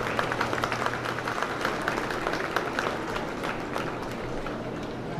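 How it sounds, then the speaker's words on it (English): A county fair crowd applauds the dairy showmanship champion, a steady wash of clapping filling the whole stretch at moderate loudness with no voice over it. "Please give me a big round of applause for her as well."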